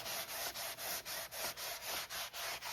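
Brisk back-and-forth scrubbing of dirt off a vintage Kenner Knight Rider KITT cardboard toy box, a steady rhythm of about ten close, even rubbing strokes with no talk.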